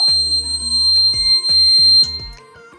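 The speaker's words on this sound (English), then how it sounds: "the buzzer begins to make a sound" A steady high-pitched electronic buzzer tone from a vehicle's drunk-driving alert system sounds continuously, with repeated low thumping knocks underneath and a pause near the end.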